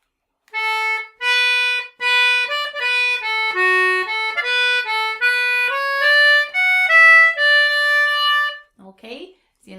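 Concertina playing the opening two bars of the second part of a self-composed tune: a quick run of distinct reedy notes moving up and down, played alone, with a faint brief rustle at the end.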